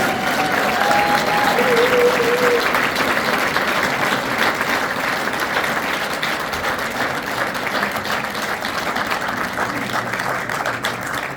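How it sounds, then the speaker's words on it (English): Steady, full applause from an audience at an awards ceremony, loud and continuous, easing slightly toward the end. "Robert Niewrzoł, huge round of applause."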